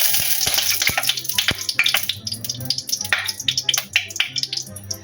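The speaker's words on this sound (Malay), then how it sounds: "Bagi minyak tu habis bunyi. Sampai dia habis bunyi, maksudnya dah panas." Water splashed into hot cooking oil in a pan gives a loud, busy sizzle full of crackles and pops that spits and fades unevenly, with no talking.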